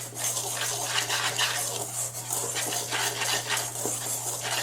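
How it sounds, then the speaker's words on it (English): Cornbread batter of flour, coarse cornmeal, baking powder and salt is stirred in a bowl, the utensil scraping and clinking rhythmically against the sides, close and continuous, with no talking over a low steady hum. "Stir this up."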